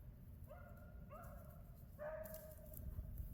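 Several puppies yipping and barking in short bursts, a couple of high whiny yelps and then a longer cluster, fairly faint against a steady low outdoor rumble.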